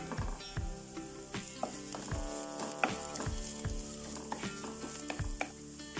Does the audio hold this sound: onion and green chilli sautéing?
yes